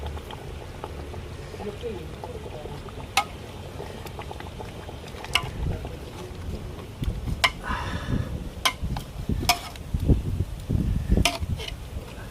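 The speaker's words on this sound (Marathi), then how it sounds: "मस्त उकळी आलेली आहे" Chicken curry boiling in a pot, three kilograms of chicken at a rolling boil with steady low bubbling, broken by occasional sharp clinks and stirring clatter, with someone talking over it.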